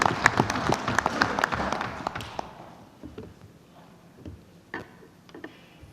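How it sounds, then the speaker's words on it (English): Audience applause at an organisation's annual general meeting, a burst of scattered hand claps that fades after about two seconds to a few isolated claps and room noise. "So big round of applause for Santosh."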